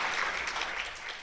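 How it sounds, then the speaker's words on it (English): An audience at a teacher education plenary session claps in a short burst of dense, even applause, heard throughout without speech. "Let's give him another round of applause"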